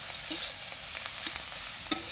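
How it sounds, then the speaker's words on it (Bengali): Leafy greens fry with dal bori and peanuts in a pan, a steady sizzle under a few scraping stirs of a spatula, close and alone. "ভালোভাবে নাড়িয়ে চাড়িয়ে নেব।"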